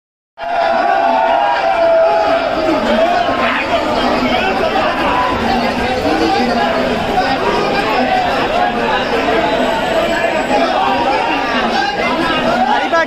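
A dense crowd of commuters packs Kurla railway station while local trains run half an hour late, a loud, steady wash of many overlapping voices chattering continuously, close and unbroken.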